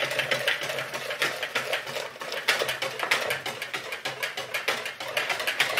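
A whisk beating cream into eggs for custard, rapid continuous clattering strokes against the side of a bowl, close and steady for several seconds with no talk.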